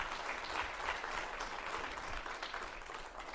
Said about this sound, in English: But one more round of applause for Kathleen, please.